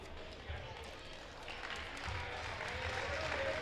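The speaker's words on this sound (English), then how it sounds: "Zepeda gets a round of applause for his time in this first half" A gym crowd at a junior varsity boys' basketball game between West Fargo and Wahpeton gives a round of applause for a player leaving the court at halftime. The clapping is steady and moderately loud and swells toward the end, mixed with crowd murmur.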